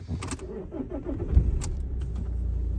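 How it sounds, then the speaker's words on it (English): An Alfa Romeo GT 1.9 JTDM diesel engine cranks and catches, then settles into a steady low idle rumble heard close by, with a faint jangle of keys at the start. "It sounds like some sort of diesel tractor, doesn't it?"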